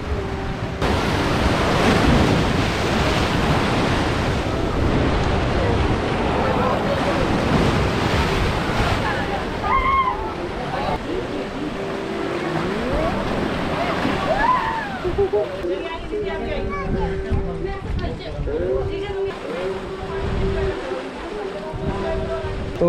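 Sea waves washing in at Ghoghla beach, Diu, a steady loud surf with wind buffeting the microphone, while people talk over it throughout.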